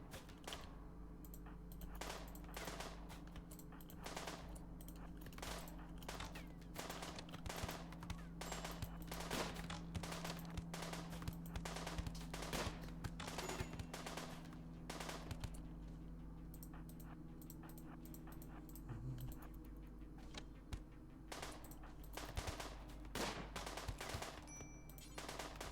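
Colonists trade gunfire in RimWorld, with dense, rapid volleys of shots crackling steadily across the whole stretch over a low, continuous battle hum.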